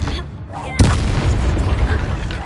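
A Confringo spell explodes in Hogwarts Legacy, a sharp loud boom that bursts out suddenly and then trails into a rumbling, crackling wash of noise amid ongoing game ambience.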